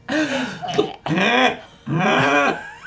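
A voice imitates hacking up a hairball: three loud, retching, throaty coughs and gags in quick succession, close up.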